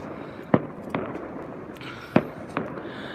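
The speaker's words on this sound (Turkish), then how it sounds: "Uzak bir yerde havai fişek atıyorlar." Distant fireworks pop a few times, four separate bursts spaced irregularly over a low rumbling background, with no voices.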